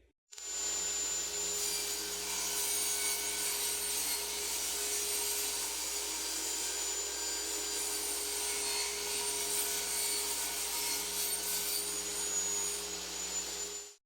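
Steady power saw cutting through a pegboard panel to trim 14 inches off its width in a woodshop, one continuous loud whine with a constant hum beneath, running unbroken for the whole stretch.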